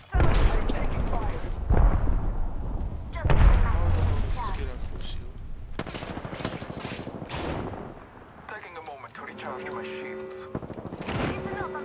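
Repeated bursts of automatic gunfire and explosions in an Apex Legends ranked arenas match, loud and close, coming in clusters under steady talk from players throughout.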